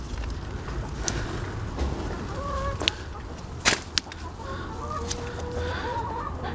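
Backyard chickens cluck in soft, scattered bursts beside an organic raised-bed garden, with a few sharp clicks and knocks nearby and no talking.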